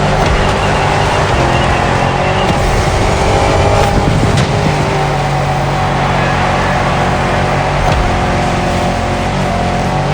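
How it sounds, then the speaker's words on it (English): Off-road 4x4 engine roaring steadily through jungle terrain in the video game The Crew Motorfest, a dense continuous loud drone with occasional bumps and scrapes. "I see you've embarked on a 4x4 race through the jungle"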